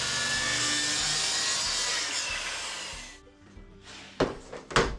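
A saw cuts through a clamped plywood sheet, with a loud, steady, close rasp for about three seconds that then stops abruptly, followed by a few knocks and clatters as the cut pieces are handled.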